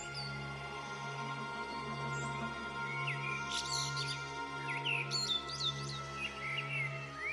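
A magical bird in a Hindi cartoon story chirps in short, high twittering bursts over a steady low background hum, moderately loud, with no voices.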